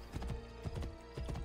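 Horse hooves in the video game Assassin's Creed Brotherhood on Xbox 360, a quick rhythmic clip-clop of several steps at moderate level over a steady background.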